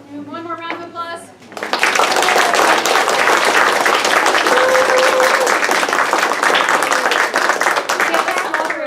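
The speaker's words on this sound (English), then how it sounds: "All right, one more round of applause." A theatre audience gives a round of applause for Irish dancers, a full dense clapping that swells in after a brief lead-in and holds strong and steady.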